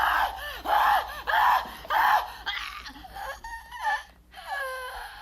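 A woman, the opera diva Carlotta in the 1989 Phantom of the Opera film, lets out a string of loud, shrill, over-the-top screams in rapid pulses, ending in warbling cries.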